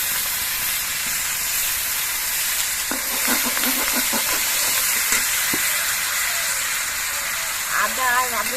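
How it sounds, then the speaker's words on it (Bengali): Ginger paste and radhuni paste sizzle steadily in hot oil for a bottle gourd shukto, with a cluster of stirring scrapes midway and a brief voice near the end. "এবার এর মধ্যে আদা বাটার দিয়ে দিয়েছি দিয়ে দিচ্ছি রাঁধুনি বাটার"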